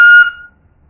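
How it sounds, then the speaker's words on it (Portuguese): A handheld bird-shaped pombinha whistle gives one loud, shrill pitched blast that cuts off sharply and fades into near silence within half a second. "que é esse apito aqui, ó."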